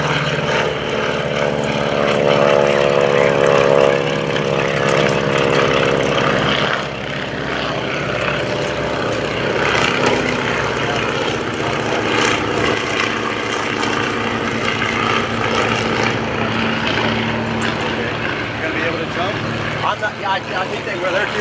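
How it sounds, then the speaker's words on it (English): Propeller-driven primary trainer aircraft fly past at a World War II weekend airshow, their engines droning loudly and steadily throughout, with a faint voice speaking underneath. "while we're watching the primary trainers, PTs coming around for you"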